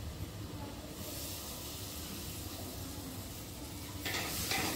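Turmeric and salt fry in a pan for mutton paya soup, a steady close sizzle with scraping stirring, rising louder near the end, with no speech.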